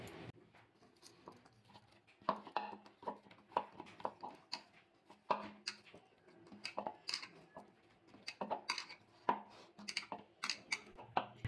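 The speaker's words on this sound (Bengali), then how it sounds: "ময়দাটা আরেকটু মেখে নেব হাত দিয়ে" Maida flour dough kneaded by hand for luchi, a run of soft, irregular slaps, pats and light knocks, close and quiet, with scattered sharper taps against a bowl.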